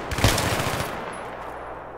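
Gunfire from the video game Battlefield 3 erupts in a loud rapid burst up close, then decays into a lingering echoing tail.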